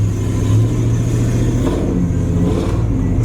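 A Joe Buddy Racing built small block short bed truck revs hard from inside the cab on a ride, a loud steady engine roar with rising and falling throttle and some clatter.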